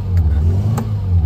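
The 1.0-litre engine of a 1982 Mini Metro revs up close by with a loud, low exhaust drone that holds steady throughout, and nobody speaks.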